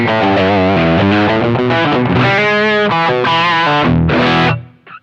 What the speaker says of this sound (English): Let's go ahead and kick on some distortion.